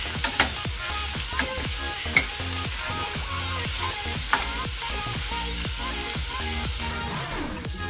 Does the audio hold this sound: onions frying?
yes